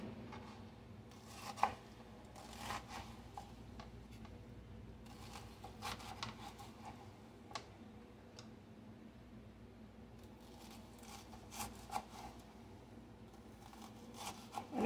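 A knife chops onions on a board in soft, irregular taps and short bursts, faint and close in a quiet room with a low background hum.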